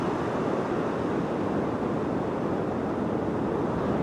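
Continuous, even roar of surf and wind at Pipe Beach in Porthcawl, South Wales, a broad wash of breaking waves with no distinct individual crashes.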